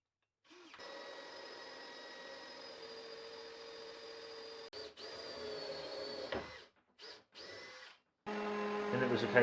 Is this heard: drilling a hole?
yes